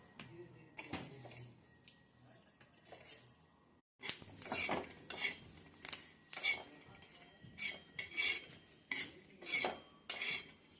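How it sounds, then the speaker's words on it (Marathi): Green chillies roasting in a pan for thecha, turned with a spatula in regular metallic scraping and clinking strokes that grow more distinct after a brief pause, fairly faint overall. "मिरच्या आता भाजून घ्यायच्या चांगल्या."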